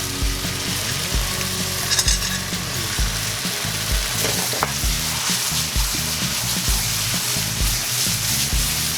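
Spaghetti being stirred through bolognese sauce in a hot pan, a steady loud sizzle and frying hiss with rhythmic scraping and stirring knocks throughout, no voices.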